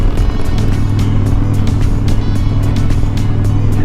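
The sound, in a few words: Harley-Davidson Super Glide Custom 2012 motorcycle engine while riding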